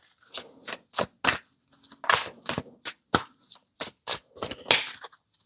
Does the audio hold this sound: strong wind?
no